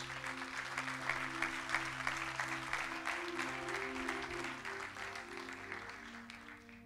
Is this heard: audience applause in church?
yes